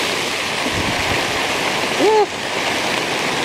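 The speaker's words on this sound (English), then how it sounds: "Ooh, and it's windy and really raining." Heavy rain falls steadily outdoors while wind blows through, a constant loud wash of noise; a voice gives a brief whoop partway through.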